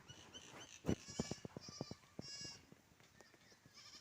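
Several goats bleat in short, wavering cries, one after another, fairly close, with quieter rustling and thumps between the calls.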